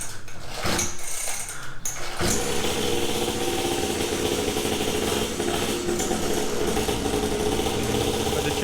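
A small 50cc kids' pit bike engine is pull-started, catching after a brief sputter near two seconds and then running steadily at a high-pitched, buzzing idle, loud and close with no talk.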